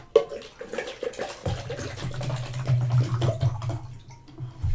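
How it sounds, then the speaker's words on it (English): Water pours steadily into an empty paint bucket, a continuous close splashing gush that deepens as the bucket begins to fill, heard alone with no talk. "And I fill it with some water."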